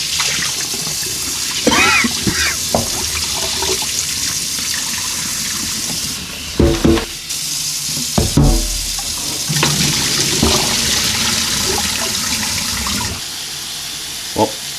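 Tap water runs steadily into a pot of peanuts for rinsing, a continuous splashing fill with a couple of clunks and knocks of the pot partway through, recorded close up.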